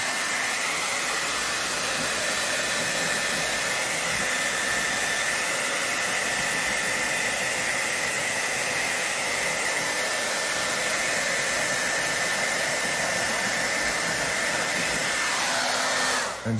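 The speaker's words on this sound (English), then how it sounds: "go get you a hair dryer" Hair dryer running continuously at full power, a loud steady blowing hiss with a constant whine, close to the listener, switching off at the very end.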